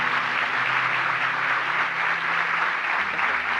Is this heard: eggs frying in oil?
no